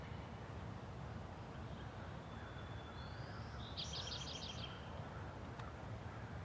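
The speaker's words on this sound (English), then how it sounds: "So you can probably hear there's a lot of birds chirping right now." Birds chirp outdoors in the morning, a soft thin whistle followed by a quick trilled series of chirps, faint and fairly distant over steady outdoor background noise.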